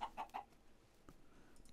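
Chickens in the Minecraft video game cluck in three quick, close bursts at the start, followed by quieter scattered game sounds.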